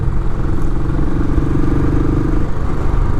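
A Royal Enfield Classic 500 motorcycle rides across grass in fourth gear, its engine thumping loud and steady from close by with a constant rumble throughout.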